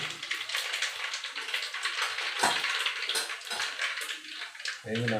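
Cumin seeds crackling in hot oil as tempering for Gujarati khatta meetha dhokla, just after mustard seeds have popped; a dense, steady sizzle with close-up frying hiss, ending in a brief low clatter.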